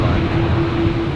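Virgin Australia jet at Brisbane Airport departing for Canberra, a steady low engine roar heard from a distance, continuous over a short stretch.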